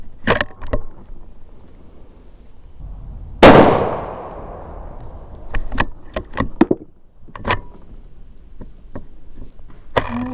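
A Weatherby Vanguard rifle in 6.5 Creedmoor on an MDT chassis fires one sharp, loud shot with a decaying tail, surrounded by metallic clicks and clanks from working the action, with no talking.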